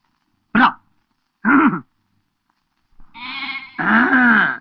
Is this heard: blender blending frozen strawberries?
no